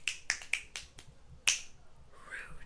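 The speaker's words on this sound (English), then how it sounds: "Don't make me snap my fingers in a Z formation." Several sharp finger snaps in a loose rhythm, close and crisp, the last one loudest, followed by a faint rustle.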